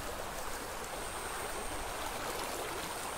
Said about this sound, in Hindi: देखिए बहती धाराओं को देखिए